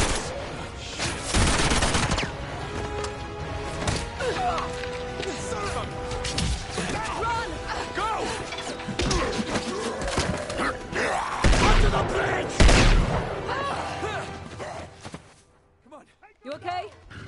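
Bursts of rapid gunfire from the Uncharted 2 video game, a volley of shots and thuds rattling through much of the stretch with shouted voices mixed in, loud and close before fading near the end.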